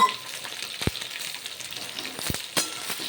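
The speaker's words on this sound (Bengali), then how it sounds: "সমস্ত সবজিগুলো আমি ভালো করে নেড়ে চেড়ে দু তিন মিনিট মতো ভেজে নেব" Mixed vegetables including beans, pumpkin pieces and radish sizzle steadily as they are stir-fried in a pan, with a few sharp scraping clicks of the spatula against the metal breaking through the continuous frying hiss.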